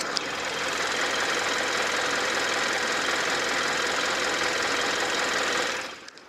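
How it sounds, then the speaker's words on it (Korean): Hyundai Grandeur HG engine idling with the hood open, a steady close mechanical hum with a light ticking, knocking texture, holding even for about six seconds before cutting off abruptly near the end. "마지막으로 나가셔서 엔진 소리 한번 듣고 마무리하도록 하겠습니다."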